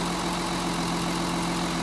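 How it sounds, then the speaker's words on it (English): A gas engine, recently misfiring and rough-running, idles steadily after its spark plug lead is reconnected, a low, even hum with a faint rhythmic vibration, heard close and alone. "Now watch the engine smooth out as I plug this lead back in."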